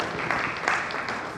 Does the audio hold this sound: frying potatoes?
no